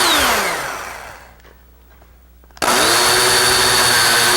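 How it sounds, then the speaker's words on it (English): Power drill boring holes into pine L-girder benchwork, a loud whining spin that winds down into near silence before a second burst kicks in abruptly at full speed and holds steady. "So I'm just going to continue to drill the holes, then we'll drive the screws."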